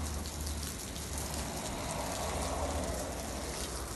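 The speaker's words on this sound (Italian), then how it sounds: "La pioggia, la pioggia!" Water sprays down like rain in a soft, continuous hiss and patter across the whole stretch, with no voices.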